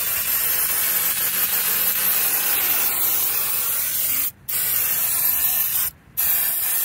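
An aerosol can spraying coating onto the metal underbody of a 2008 Honda Civic near the brakes, heard as a loud, close, steady hiss that cuts off briefly twice near the end.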